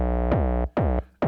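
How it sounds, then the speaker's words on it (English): Bass drum voice from a Flame FIRE eight-voice Eurorack drum synth: three deep, booming synthetic kicks with a fast downward pitch sweep, each ringing out and decaying before the next, close and alone. "So we'll start off with the bass drum and it sounds like this."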